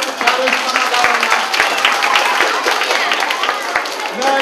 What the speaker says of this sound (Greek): Για χειροκροτήστε την Ιουλία